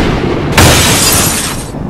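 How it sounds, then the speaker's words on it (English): Window glass shatters in a sudden loud crash, followed by about a second of bright crackling debris before it fades. "And then a bolt of lightning shattered the kitchen window,"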